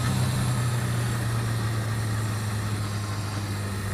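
A Honda CB550 motorcycle engine drones steadily while riding along roads in the Yorkshire Wolds, a constant low hum with wind rush and no talking.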